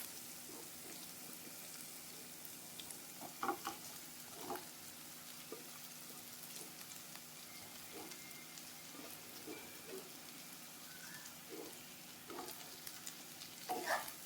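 Idli pieces and vegetables being stirred in a pan, soft scraping taps scattered over a quiet, faint background hiss.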